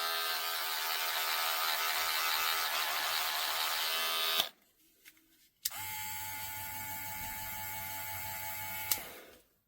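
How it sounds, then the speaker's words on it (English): Name-brand cordless hair clippers buzz steadily at close range, cut out briefly with a few clicks, then start up again and keep running with a slightly strained hum. "These sound like they're struggling, and when you shake them, you can hear the motor kind of try to deal with that shaking."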